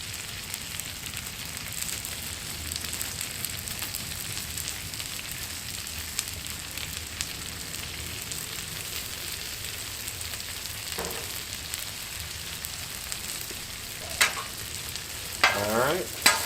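Garlic and mushrooms sizzle steadily on a Blackstone griddle, a continuous close frying hiss with a few scraping stirs of a spatula near the end.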